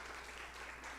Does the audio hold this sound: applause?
yes